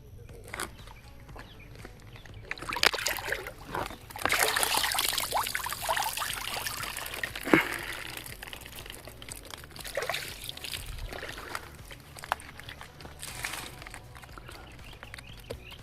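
Fish traps hauled up out of a village canal: water pours and trickles off them in a steady, fairly close splashing rush, with scattered drips and sloshes and no talking.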